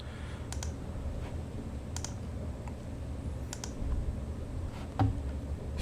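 Sharp clicks of a computer mouse, a few spaced taps over a steady background hum, made while installing an RNDIS driver during setup of an xTool D1 Pro 20 W diode laser.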